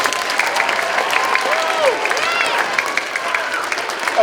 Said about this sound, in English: Mrs. Clemens and Mrs. Garrett, so we can give them a round of applause.